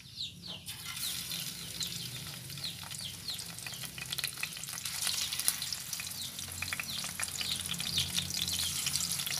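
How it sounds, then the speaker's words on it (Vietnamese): Steady crackling and sizzling of mushrooms frying in hot oil in a pan, fairly quiet, with small pops throughout. "Thì mình để vô mình chiên ha."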